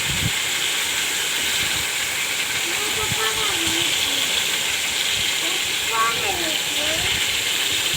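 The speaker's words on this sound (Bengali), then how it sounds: "মাছগুলো ভাজা হবে, ভালো মতন মাছগুলো ভেজে নিতে হবে।" Fish fry in hot oil with a loud, constant broadband hiss close by, while a voice talks intermittently underneath.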